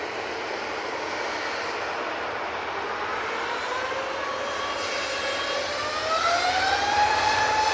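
An EasyJet airliner departing Manchester Airport for Geneva makes a steady jet roar with a rising engine whine that grows louder toward the end, heard from nearby with no voices.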